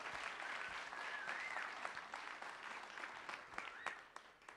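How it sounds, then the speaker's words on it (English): A live event audience applauds all ten contestants, a full, sustained wash of clapping with faint whoops and cheers threaded through, tapering slightly at the end. "Can we have a round of applause for all 10?"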